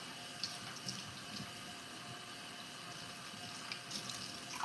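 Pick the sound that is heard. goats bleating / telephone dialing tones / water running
water running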